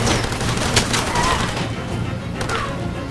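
Gunfire in the video game Far Cry, a busy stretch of shots and bursts trading back and forth over a constant ambient game bed, with no talk.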